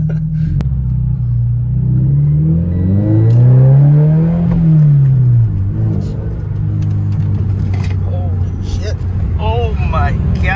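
A 2014 Subaru BRZ engine revs up and down, its pitch rising and falling in loud sweeps, then settles into a rough rumble with more throttle blips, up close.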